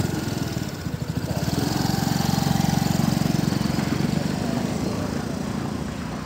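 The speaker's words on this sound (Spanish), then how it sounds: "para volver a encender la moto, lo único que haces es acelerar" A Yamaha Cygnus 125 scooter engine revs and runs with a steady, close chugging putter, its rhythmic pulsing rising slightly as the throttle opens.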